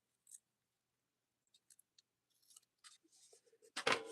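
Quiet, close snips and rustles of scissors cutting a small piece of material, a few scattered clicks building to a louder cluster of cuts at the end.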